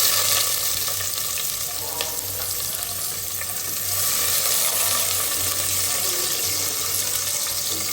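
Bottle gourd frying in a pan, a loud, steady close sizzle with stirring through the whole stretch and a low hum beneath.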